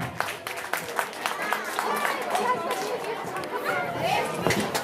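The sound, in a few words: audience clapping at school programme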